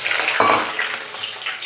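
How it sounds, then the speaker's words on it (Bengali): Potato pieces fry in hot oil in a wok, giving a bright steady sizzle with a brief burst of crackle near the start, close and loud, with no talk. "আলুগুলো ভেজে নিচ্ছি"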